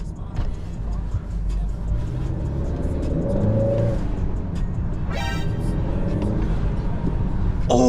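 Engine of a 2.0T Honda Accord accelerates and revs on a street, rising in pitch under steady road noise, with a brief horn-like tone and some background voices.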